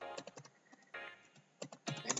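Quiet clicking on a computer keyboard while entering a conda command, irregular keystroke taps in short runs with small pauses, close and soft, no talking.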